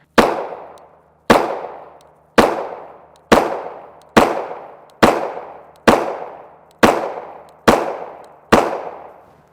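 Ten evenly spaced 9mm pistol shots from a Palmetto State Armory Dagger, a Glock 19 clone, firing 124-grain FMJ rounds, each a sharp loud crack with a ringing decay, about one per second.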